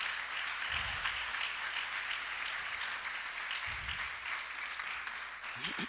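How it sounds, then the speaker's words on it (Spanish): A congregation applauds during a Spanish-language church service: dense, sustained clapping fills the room, with a couple of heavier low thumps standing out under it. "Dale una ofrenda de palmas al Rey de Reyes."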